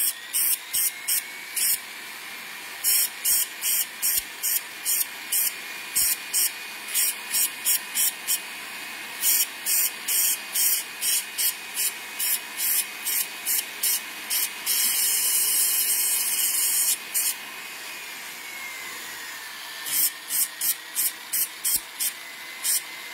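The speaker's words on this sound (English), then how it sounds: "Go after it with my disc sander." A disc sander grinds a metal ring in short, repeated bursts with brief pauses between passes, plus one longer sustained stretch of steady hissing abrasion near the middle, close and fairly loud with no talking.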